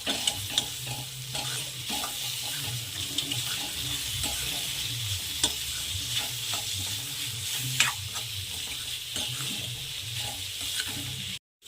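Bitter gourd pieces stirred in a pan for a Marathi-style karela bhaji, with a steady sizzle and continuous scraping and stirring throughout, close and moderately loud, no talking.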